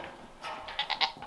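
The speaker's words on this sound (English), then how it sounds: "The goats are all cozy and happy." Goats on a homestead during a heavy snowstorm bleat in a few short, overlapping calls, moderately faint and at some distance, with no talking.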